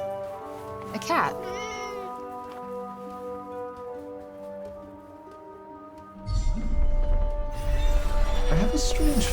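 A cat in the video game Forspoken gives a few short meows early on over soft ambient game music, then heavy rain-like noise swells in toward the end, with voices talking during the scene.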